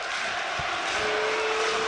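Notts County supporters at a National League playoff football match against Boreham Wood, a continuous distant roar of the crowd with a steady hum and faint rising chants.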